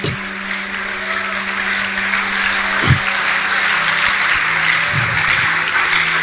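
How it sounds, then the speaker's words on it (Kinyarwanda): A church congregation claps in sustained, loud applause during a service, a continuous dense wash of hand claps with a few louder thumps, over a steady low hum. "Muyongera amashyi"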